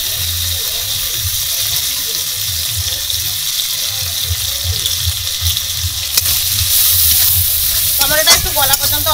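Onion, tomato and turmeric fry in a pan with a loud, steady sizzle and a faint rhythmic stirring scrape underneath, growing a little busier toward the end.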